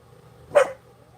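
A dog barks once, sharp and fairly close, inside a quiet home, with a faint low hum underneath and no talking.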